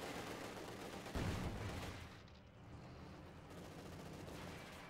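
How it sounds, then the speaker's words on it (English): Gunfire from a Soviet T-70 light tank in the Company of Heroes 2 strategy game, shelling an enemy base amid a dense battle din, with one louder blast near the start. "the T-70 moves up a little bit and is going to start shooting at... looks like the Tier 1 base"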